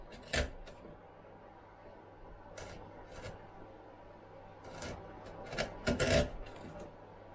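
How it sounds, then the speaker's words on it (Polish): A sharp chisel pares wood for a garden table in a few scattered, close scraping and rasping strokes, with quiet pauses between them. "Nie ma to jak ostre dłuto."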